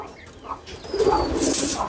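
A pigeon gives a short, close coo, a soft rising call that grows louder near the end of a brief moment.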